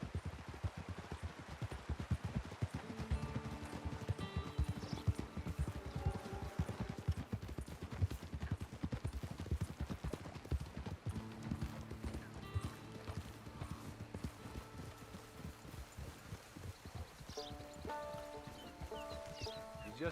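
Horse hooves clip-clopping at a steady, continuous pace in the Red Dead Redemption Online video game, close and moderately loud over sustained tonal background sounds throughout.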